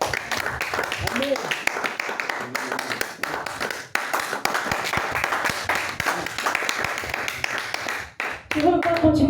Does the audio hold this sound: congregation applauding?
yes